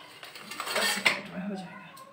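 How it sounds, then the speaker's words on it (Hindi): Metal utensils and dishes clink and clatter as a woman washes them, with scattered knocks and scrapes close by while someone talks. "बर्तन धो रही है मम्मा"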